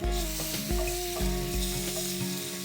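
Cumin seeds and ginger-garlic paste sizzle loudly in a small amount of hot oil in a pan, a steady close crackle with faint stirring scrapes and no talking.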